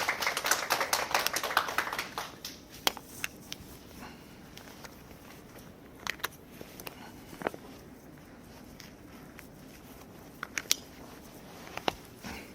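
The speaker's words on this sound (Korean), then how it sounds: "박수 한번 쳐주십시오." Scattered, sparse clapping from a small audience at a maternity class, starting as a brief burst of claps and then thinning to isolated, faint hand claps spread over several seconds.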